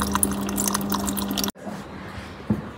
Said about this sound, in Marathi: इथे पाणी आलेलं आहे, बघू शकता पाणी येतंय.